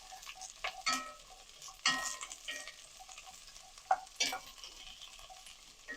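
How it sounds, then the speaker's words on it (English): Vegetables for lasagna sizzle softly in hot oil, with intermittent stirring scrapes and light clanks of a utensil against the pan. "When you hear that sizzle going, it's a good thing."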